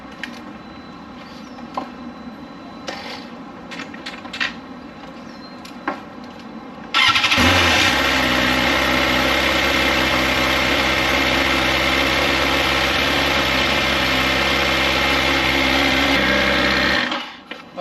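Cold start of a BMW S1000XR motorcycle with a Black Widow slip-on exhaust: a brief starter whirr catches into a loud, steady, close idle that runs about ten seconds before cutting off, with quiet shuffling beforehand.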